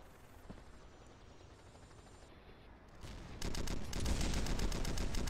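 Gunfire in the War Trigger 3 multiplayer video game: scattered single shots at first, then a loud sustained burst of rapid automatic fire fills the second half, with no talking.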